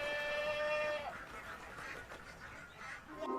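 Ducks quack in a short burst with honking calls at the start, then scattered softer quacks and farmyard noise follow close by.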